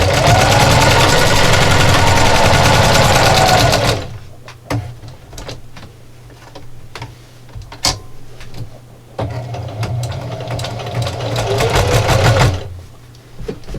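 A sewing machine stitching and back stitching a pie plate coozie runs in loud, fast, steady bursts, one long run at the start and a second later on, with short gaps and small handling clicks between them.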